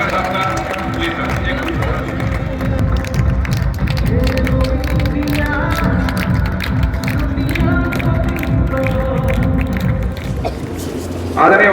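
Crowd applause at a Haryana state yoga competition closing ceremony, welcoming the yoga commission chairman: sustained rapid clapping from many people, with an amplified voice speaking over it.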